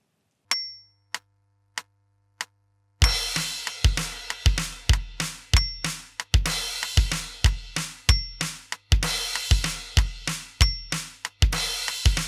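A few isolated drum strokes, then a full kit kicks into a rock bridge groove: bass drum and snare in a steady pattern with crash cymbals washing over regular hits, loud and close throughout.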